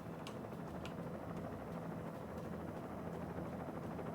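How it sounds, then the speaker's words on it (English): A helicopter in the video game Alan Wake makes a steady low rotor drone that holds at an even level throughout, with faint high chirps scattered over it. "What's that helicopter?"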